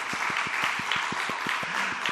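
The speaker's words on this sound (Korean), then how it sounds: "우리 선생님들 위해서 박수." A church congregation claps for its teachers in an even, rhythmic beat, hands striking together in unison roughly six times a second over a soft murmur of the room.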